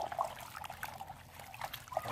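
Water trickles and splashes softly and steadily as an old cactus plant pot is rinsed clean, the flow faint and continuous with no talking.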